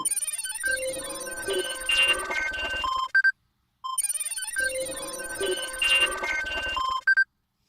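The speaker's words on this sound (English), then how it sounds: "you look at the tablet that Zelithna gave you, and it's ringing" A tablet rings with an incoming call in a sci-fi setting, a synthetic electronic ringtone melody playing twice in near-identical bursts separated by a short silence, clear and close with no talking.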